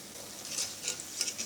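Raw potato chops fry in oil with a quiet, steady sizzle, broken by a few light clinks and scrapes of stirring.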